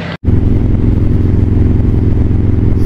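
Motorcycles rolling past during a bike parade at the Eureka Springs Spring Fling, a loud close continuous engine rumble after a brief gap at the start.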